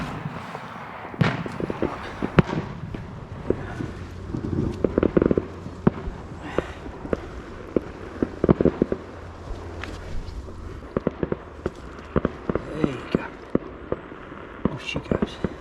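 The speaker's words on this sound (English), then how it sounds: "Fireworks are off." Scattered sharp bangs and crackles pop off at irregular intervals over a low outdoor rumble, a fireworks display going off in the distance beyond a carp fishing lake.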